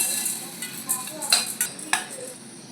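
Peanuts being lightly dry-roasted and stirred in a pan for black laddu, with brief scraping and rattling strokes of a spoon against the pan over a faint hiss, close and moderately loud.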